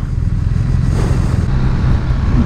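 A BMW R 1250 RT motorcycle engine braking on a demo ride, a steady loud low rumble from the engine with rushing road and wind noise, close and continuous with no talk.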